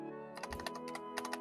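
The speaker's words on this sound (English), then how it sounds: "You're typing." Keys clattering on a computer keyboard in quick, uneven bursts of close, crisp clicks, starting after a brief pause and continuing in short clusters over a low steady hum.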